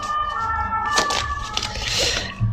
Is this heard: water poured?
no